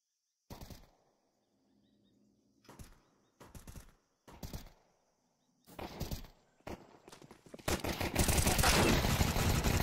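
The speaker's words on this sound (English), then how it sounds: "Here they go with the pistols." Pistol shots crack in short, spaced bursts during a competitive shooter match, separated by near-silent gaps, building into denser, continuous gunfire and noise toward the end.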